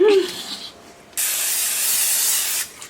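A short hiss, then a longer steady spray from a cooking spray can into a baking pan, close and loud, lasting over a second before cutting off.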